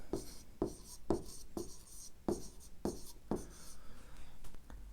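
A pen writing an answer to a five-digit-number maths problem on paper: quiet, close strokes and taps in short repeated bursts, about seven distinct marks over a few seconds, with no voice over them.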